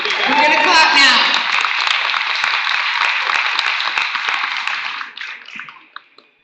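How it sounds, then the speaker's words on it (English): An audience claps at a city candidate forum business luncheon, sustained applause that tapers off and fades out over the last couple of seconds. "We're going to clap now."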